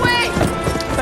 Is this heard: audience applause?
no